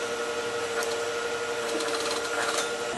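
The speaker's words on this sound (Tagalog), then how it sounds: "we're using an industrial sewing machine because the denim pants are quite thick" An industrial sewing machine stitches thick denim pants, a steady whining motor hum layered with rapid needle ticking that runs without pause, close and fairly loud.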